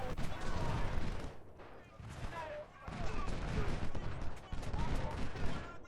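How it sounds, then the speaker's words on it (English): Massed infantry volleys from Ultimate General: Civil War, Civil War–era musket fire crackling in dense, overlapping bursts with brief lulls between them, loud and continuous throughout. "like 2 units fired a volley"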